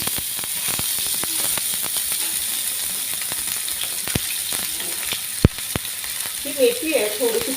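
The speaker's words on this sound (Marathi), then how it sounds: "तुपावर एखाद दोन मिनटं आपल्याला परतवून घ्यायची आहे" Sprouted fenugreek roasting in hot ghee in a pan: a steady sizzle with scattered clicks and scrapes of stirring, plus a louder knock near the end, with no talking.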